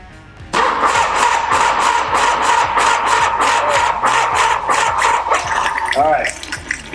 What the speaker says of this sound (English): We're starting to get some exhaust rolling here, that's good.